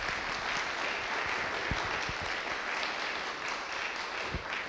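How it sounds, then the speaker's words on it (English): A symposium audience gives the organizing team a round of applause, steady crowd clapping with a few sharper nearby claps standing out, moderately distant and without talk. "Yes, they do deserve a round of applause,"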